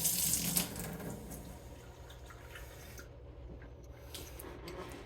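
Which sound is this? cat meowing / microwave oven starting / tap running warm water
tap running warm water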